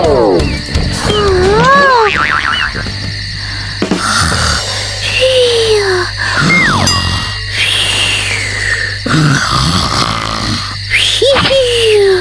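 Loud, exaggerated snoring repeats every few seconds, with whistling tones that swoop up and down between the deep rasping breaths.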